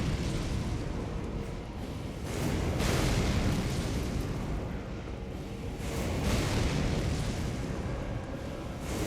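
Heavy booming cannon fire in the Elden Ring video game, a dense rumbling blast that swells around the two-second mark and again near six seconds, loud and sustained with no talk over it.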